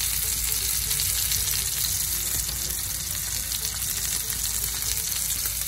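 Chicken breast stuffed with mofongo browning in a pan over medium heat, a loud, steady sizzle of frying oil close by that never lets up, with no talking.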